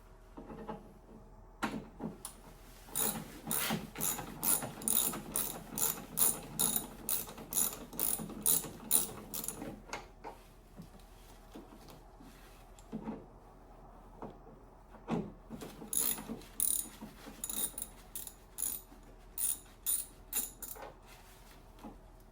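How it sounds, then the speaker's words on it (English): A socket ratchet clicks away at corroded bolts on a Land Rover rear door, with two bursts of rapid, close ratcheting separated by a quieter pause filled with small metallic handling noises. "I can probably get a socket on there and just release those two."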